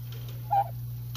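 A fluffed-up tom turkey guarding his hens on a ranch gives a single short gobble-like call, close and fairly clear over a steady low hum.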